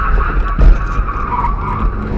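Mitsubishi Galant VR4 braking hard on a hillclimb course, a loud close tire skid over the engine's low roar, with a brief heavy thump partway through.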